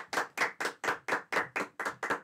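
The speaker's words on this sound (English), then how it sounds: "Round of applause." Rhythmic clapping from a small audience at the Urinevision 2023 live comedy show greeting guests Mr Biffo and Sanja, about nine evenly spaced close, crisp claps in quick succession with no talking.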